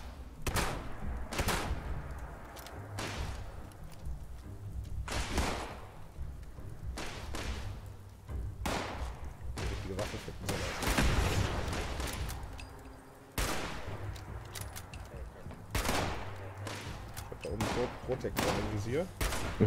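Rapid bursts of Fallout 76 gunfire crack out repeatedly in clusters at a raider outpost, with thuds and a voice talking over the shooting throughout.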